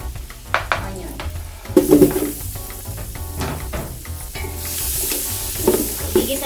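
Onion sautéing in melted butter in a pan over very low heat, a soft steady sizzle with scraping stirs and occasional clinks of utensil on metal, fairly close.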